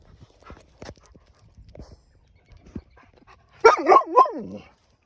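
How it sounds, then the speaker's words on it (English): Milo the dog gives a short burst of yips and barks, three or four rapid, close calls near the end, after quiet shuffling and faint taps during a training session. "And now we're doing the barking."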